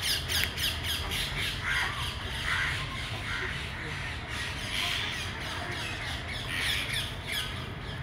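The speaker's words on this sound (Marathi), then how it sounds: "बघा बाकीचे पोपट पण जमले आहेत." A flock of parrots gathers around a trapped, injured parrot during a fire brigade rescue, a loud continuous clamor of harsh overlapping squawks and shrieks nearby, with voices faintly beneath.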